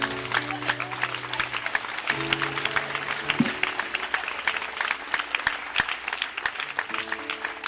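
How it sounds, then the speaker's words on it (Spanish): Lively applause from a church congregation, dense and sustained for several seconds, with a low organ or keyboard tone held underneath and some crowd noise mixed in. "Alguien dele un aplauso al Señor."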